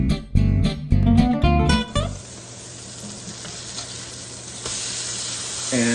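A cheeseburger patty sizzles and fries steadily in a pan, a loud busy clatter at first giving way to a constant soft hiss.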